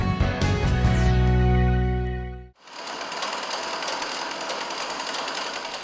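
A sewing machine stitches cloth as schoolgirls train on it. A steady mechanical rattle runs loud and continuous after an opening tonal musical passage cuts off.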